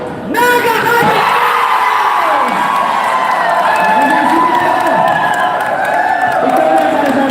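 A large crowd shouts, whoops and cheers loudly and continuously at a Bicolano community sports fest in Taiwan, a dense roar of voices close by after a league match.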